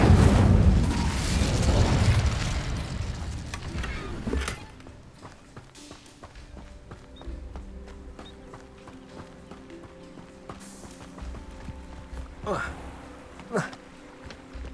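A burst of Incendio fire spell from Hogwarts Legacy, loud and whooshing at the start, then fading into quieter crackles and scattered effects with a couple of later sharp pops.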